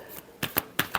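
A deck of playing cards is shuffled in four quick crisp riffle bursts, close and fairly quiet, with no talk.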